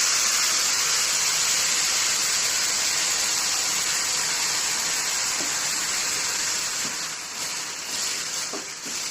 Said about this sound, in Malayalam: ചൂടാവുമ്പോൾ നമ്മളിതാ അതിലേക്ക് കുറച്ച് വെള്ളം, ഇത് വേവാൻ ആവശ്യമായിട്ടുള്ള വെള്ളം ഒഴിക്കുക